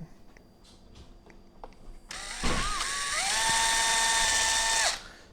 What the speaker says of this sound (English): you will need to put a pilot hole